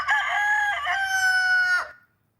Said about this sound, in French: Voilà le chant du coq gaulois.